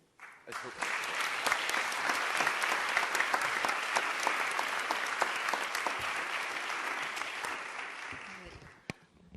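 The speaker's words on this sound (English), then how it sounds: "So a big round of applause for Ms. Margalida Payeras." Audience applause at the opening session of a youth parliament in Spain, a steady sustained round of clapping from a crowd that swells quickly, holds for several seconds, then fades.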